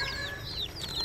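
Bangkok chicken chicks kept in a cardboard box, giving high, repeated peeping chirps, close and fairly steady over a brief moment with a low background hum.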